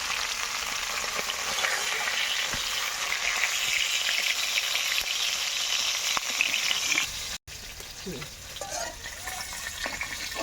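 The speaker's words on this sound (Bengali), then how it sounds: "আমি মাছগুলো ভেজে একে একে সব মশলা দিয়ে কষে নেবো" Butter fish (bata mach) frying in oil in a kadai, a steady loud sizzle with stirring sounds, briefly cut off near the end before the sizzling resumes.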